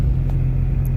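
A Jeep Grand Cherokee 4.0 engine with its catalytic converter cut off, idling or running with a loud, deep, steady rumble close by, heard alone.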